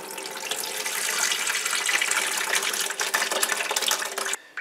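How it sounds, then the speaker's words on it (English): Water from an old toilet fill valve drains steadily into a bucket, a continuous close splashing trickle that runs for several seconds and then cuts off abruptly near the end. "you can pull out the old fill valve and it'll drain into your bucket"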